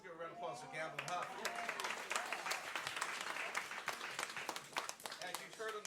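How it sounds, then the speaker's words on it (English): Audience applause for Gamble and Huff at a Soul Train Cruise panel on a ship, sustained dense clapping heard fairly faint and distant, steady throughout with voices mixed in. "Let's give a round of applause for Gamble Huff."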